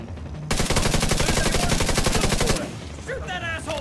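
Rapid automatic gunfire rattles loud and close in a sustained two-second burst, followed by a synthetic voice over lingering background noise.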